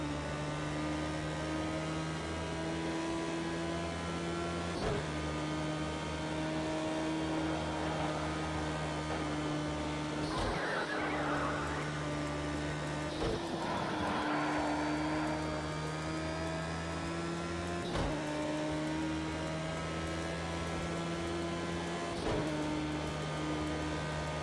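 A Radical SR3 race car in Project Cars 2 at Cadwell Park winds its engine up toward the red line, a sustained tonal whine that drops sharply at each gear change every few seconds, with no voices.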